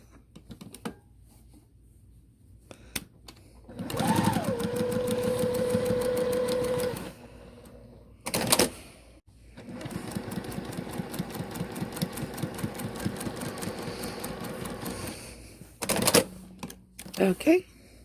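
A Juki TL2010Q sewing machine stitches fabric in rapid mechanical bursts of a few seconds each, close and fairly loud, separated by pauses and short clicks, with a voice talking between runs.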